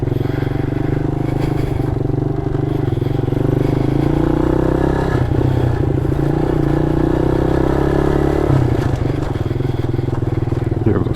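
A Honda Monkey or Grom clone motorcycle rides off road in second gear, its engine droning loud and steady throughout with slight pitch shifts and some rattling clatter.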